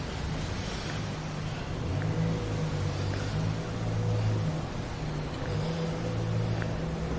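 Small 660 cc vehicle engine with an aftermarket exhaust, rims, rear drum brakes and a colored front caliper, idling and blipping in steady low rumbling pulses with a few throttle rises, heard fairly close over outdoor background noise.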